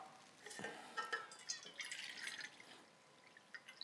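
Water pours from a prepared container into a small camp cooking pot, heard as faint, close splashes and trickling drips in short bursts that taper off toward the end.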